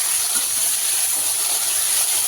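Eggplant, potato, a whole tomato and green chillies sizzle in hot oil in a kadai, making a loud, steady, unbroken hiss throughout with no voices.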